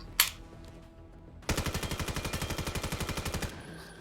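Assault rifle fired in the Vail VR video game: one sharp shot, then a rapid steady burst of about twenty evenly spaced rounds lasting two seconds, close and loud.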